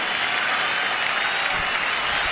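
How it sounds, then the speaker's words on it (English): Baseball crowd at a Phillies–Nationals game in Washington clapping in the stands, a steady, broadband wash of many hands that holds evenly throughout without any clear voice on top. "Nice crowd into this game, starting to clap"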